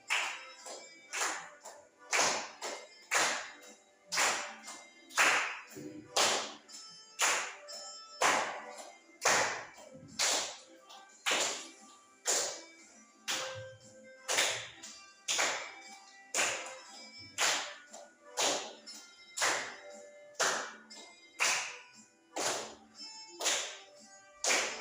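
A group claps hands along to the Indonesian children's song "Lihat Kebunku", about two dozen sharp, evenly spaced claps in a steady rhythm mixed with the music, fairly close.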